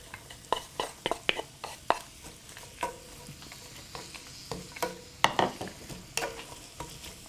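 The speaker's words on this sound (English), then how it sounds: "coat it with the mixture of oil and the ghee" Root vegetables sauté in a pan with oil and ghee: a steady sizzle under repeated close scraping stirs in an irregular rhythm, with nobody talking.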